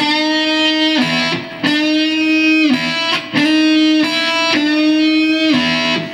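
Electric guitar with a string bent up a full step, repeated about five times in a steady rhythm, each sustained note rising and holding, loud and close with no talk.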